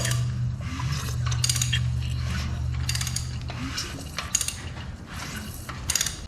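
A ratchet clicks in repeated bursts while turning the crankshaft of a 6.0 LS engine during a rebuild, with a faint hum underneath and scattered metallic clinks close by.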